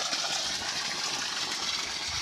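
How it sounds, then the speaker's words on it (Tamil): Strong, steady gush of water pouring from a four-inch borewell pump pipe on farmland with banana plants, a dense continuous rush with no pauses and no voices. "இது போரில் தாங்க தண்ணி ஓடுது எந்த அளவுக்கு தண்ணி வருதுன்ற பாருங்கள்"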